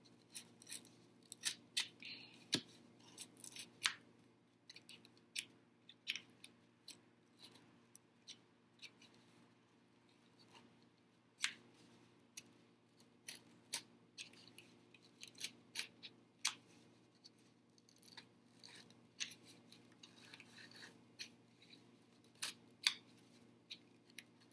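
Cardboard being cut with scissors or a blade over a cutting board for homemade cardboard swords, faint close snips and scratchy crunches in irregular bursts, quiet and alone.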